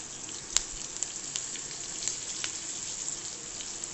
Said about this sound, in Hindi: बस वन स्पून डालिए, तो दो मिनट भूनिए.